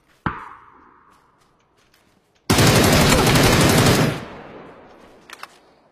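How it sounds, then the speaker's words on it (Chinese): Sustained rifle fire sprayed in a battle-royale style video game: an initial sharp shot with a decaying tail, then a loud, dense burst of rapid automatic fire lasting about a second and a half before cutting off. "要不拿步枪扫他"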